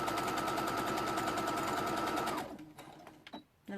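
A sewing machine back stitches in a steady, rapid mechanical rattle that runs continuously for over two seconds, then stops, followed by a few faint clicks and handling noises nearby.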